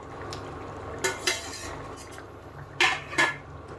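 Pieces of parwal being tipped into a metal pan and stirred with a spoon, a few sharp clinks and scrapes of utensil on pan over a low cooking background, no talking.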